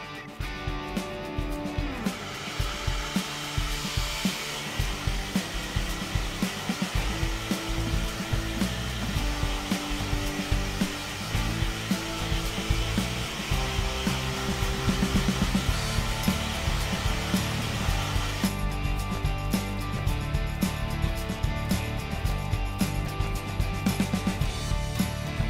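A hair dryer runs without a diffuser on curly hair in a continuous loud, steady blow lasting the whole stretch. Its pitch shifts slightly as the dryer is moved, with no talk.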